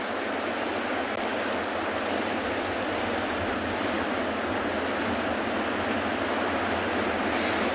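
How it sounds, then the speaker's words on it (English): Ocean surf rolls in at a penguin beach in a steady, full-bodied roar of breaking waves, loud and continuous with no voices over it. "I also find that the sound of the ocean today is fantastic."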